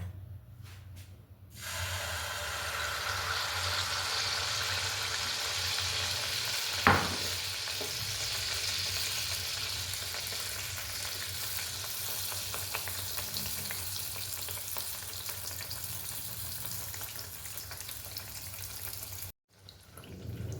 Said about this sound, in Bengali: তো দেখো তেলটা চলে এসেছে এরপরে আমরা মালপোগুলোকে ফ্রাই করে নেবো